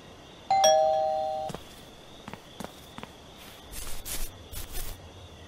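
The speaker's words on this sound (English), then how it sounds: "I just rang doorbell" A doorbell in the Thief Simulator video game chimes once, a clear two-tone ding-dong that rings out and decays, followed by soft scattered footsteps and faint shuffling noises.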